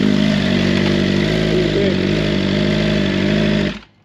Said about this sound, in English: The velocity stacks give it like a whine.